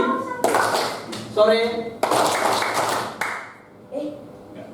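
Fifth-grade schoolchildren in a classroom chant together and clap in short rhythmic bursts, the clapping and voices alternating through a patterned clapping game.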